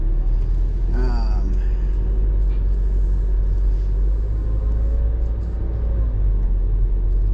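Steady low engine rumble and road noise fill the cabin of a moving Mini car, constant and close throughout, with faint tonal whines drifting over the drone.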